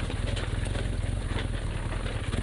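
A BMW R1200GS motorcycle engine hums steadily while riding, a continuous low droning throb with no talking over it.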